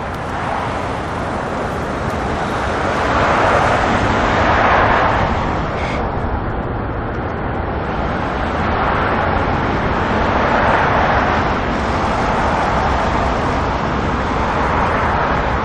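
An airliner on final approach at Auckland Airport roars steadily, with broad jet noise that swells and fades gently over a long stretch, heard from a distance alone.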